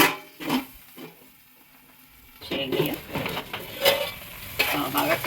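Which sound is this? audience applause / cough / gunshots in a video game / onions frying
onions frying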